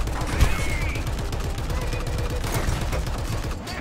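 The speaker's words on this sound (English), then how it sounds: "I'm shooting at these other guys." Rapid tank gunfire in the War Thunder video game, a dense, continuous rattle of shots close and loud throughout, with a brief louder burst near the start.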